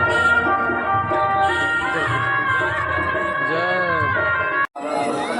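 Crowd babble at a nine-kund mahayagya fair beside a decorated Ram Janaki temple, many voices mingling in a dense steady hubbub with a few louder calls rising above, close and continuous, broken by one brief dropout near the end.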